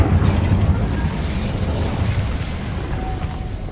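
A fire spell bursting in Hogwarts Legacy, a loud whooshing roar that starts strong and slowly fades, with no talk over it.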